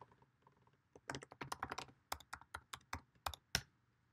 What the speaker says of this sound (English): Just put my password in again.